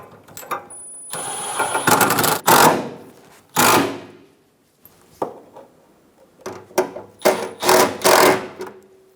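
Bolts being run in on a Toyota Camry heat shield with a power ratchet or impact tool, several short loud whirring bursts separated by quiet pauses, close by, with no talking.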